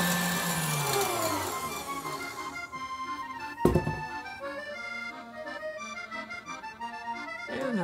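An electric mixer whips meringue for macarons at high speed, a steady close whine and whirr that shifts in pitch, with a brief clatter partway through.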